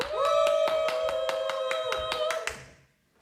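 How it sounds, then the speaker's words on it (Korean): A crowd at a children's show-and-tell event claps in a fast, even rhythm for the first contestant, with a sustained vocal cheer over the claps before everything fades out. "첫 번째 출연자에게 박수해주세요."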